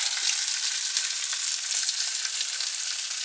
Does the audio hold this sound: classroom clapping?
no